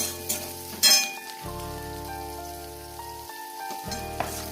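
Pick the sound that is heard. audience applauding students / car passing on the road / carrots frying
carrots frying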